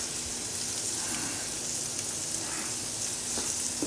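Steak fries in a hot pan with a steady, dense sizzle and crackle, moderately loud and close, with no talking over it.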